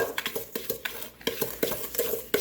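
Egg and sugar being mixed into blueberry coffee cake batter in a bowl, with rapid, rhythmic, close scraping and tapping strokes of a utensil that continue steadily throughout.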